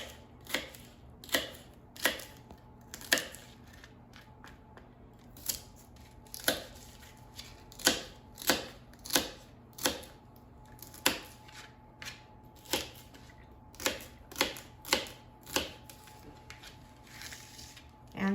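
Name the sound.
knife cutting celery into small pieces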